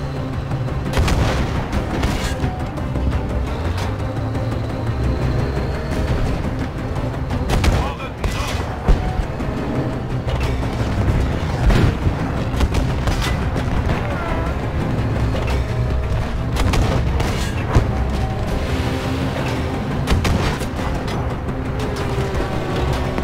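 A Battlefield V battle rages in a video game, with constant rifle fire, rattling bursts and heavy artillery booms crashing loudly and continuously while soldiers shout in the chaos.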